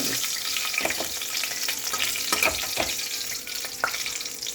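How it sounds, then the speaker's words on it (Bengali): Vegetables frying in ghee in a pan tempered with cumin, cardamom, dried chili and bay leaf, a loud close hissing sizzle broken by scattered clinks and scrapes of stirring, with no talking. "এবারে আমি সবজিটাকে ভেজে নেব।"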